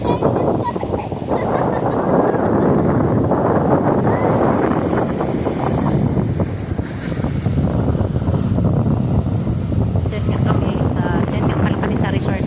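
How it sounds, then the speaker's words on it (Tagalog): Ocean waves at a beach in Zambales roll and wash continuously, heavily buffeted by wind rumbling across the microphone, with people talking intermittently over the surf. "Ganda ng alon, no?"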